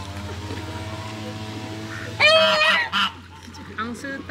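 A goose lets out a loud, harsh honk followed by a shorter one, over a steady low engine-like hum outdoors at Bukit Jelutong Eco Community Park.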